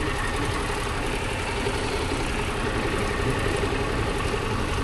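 A Yamaha MT-07 motorcycle engine runs steadily and close by, with a dense, even drone and no clear changes in pitch throughout.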